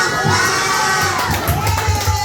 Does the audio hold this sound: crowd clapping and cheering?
yes